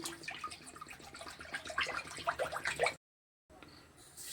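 Water poured into a pan of flour while making nolen gur rasgolla, a quiet, close splashing pour that cuts to silence briefly, then faint noise resumes.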